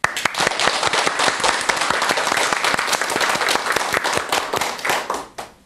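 A large audience claps loudly and continuously to welcome a Buddhist monk's dharma talk, dense applause that holds steady before tapering off at the end.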